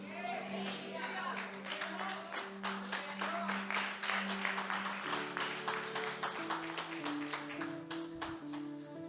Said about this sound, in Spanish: Y yo le doy gracias por el aplauso